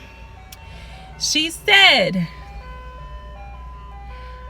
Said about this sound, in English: I'm sorry if you hear this ice cream truck